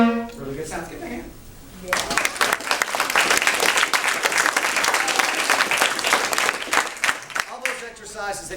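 Applause from an audience after a children's concert performance, a burst of dense clapping that holds steady for several seconds, preceded and followed by brief talk nearby.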